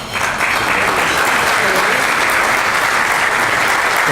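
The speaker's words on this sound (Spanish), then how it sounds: "les acercamos un cálido aplauso" A luncheon audience in Córdoba gives a warm round of applause, loud, dense and sustained clapping from a large crowd that swells in quickly and holds steady throughout, with no speech over it.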